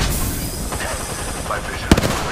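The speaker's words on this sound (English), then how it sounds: "Getting shot. Taking fire, brother!" Gunfire in the video game Apex Legends during a battle royale fight, with sharp bursts of shots near the end over game sounds, while a character voice speaks.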